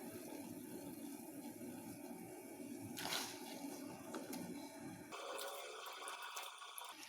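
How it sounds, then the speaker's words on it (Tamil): Sliced potatoes are dropped into a pot of boiling salted water, giving a continuous bubbling hiss with a burst of splashing partway through before the boil settles into a quieter simmer. "இங்கே பார்த்திங்கன்னா தண்ணி நல்லா கொதிக்குது."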